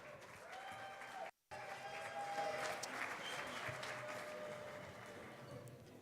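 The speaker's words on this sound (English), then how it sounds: "Let's give another round of applause to Reagan Lolo." An audience at a foundation dinner gives a speaker a round of applause, soft, steady clapping from the room with a brief cut near the start.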